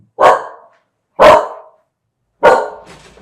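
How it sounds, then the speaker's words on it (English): A border collie mix dog barks three times, loud and close, each bark sharp and separated by about a second of silence, alone without talk. "Oh, well, my dog."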